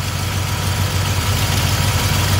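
A small-block Chevy engine with an Edelbrock carburetor idles close up with a steady, loud, low rumble and no other sound over it.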